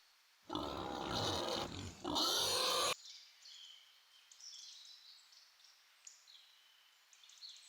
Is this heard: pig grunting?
yes